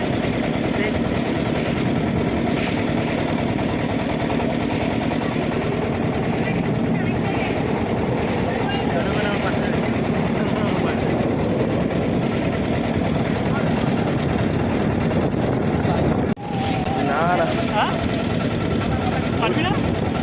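A motor boat engine on a Sundarbans waterway drones steadily and close for the whole stretch, with voices talking over the constant rumble.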